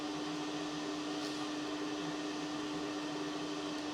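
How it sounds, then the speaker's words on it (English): The vacuum on a Raptor portable particle analyzer's dry powder module runs as a steady, loud, even whoosh with a constant hum, unbroken for the whole stretch and with no talk. "I would do another one with the vacuum on"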